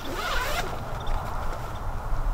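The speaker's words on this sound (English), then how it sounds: "It does zip up pretty well." A zipper running along the window of a weather enclosure built to shelter a rig, a steady close-up zip lasting over two seconds with a slight rasp and a few small creaks from the fabric.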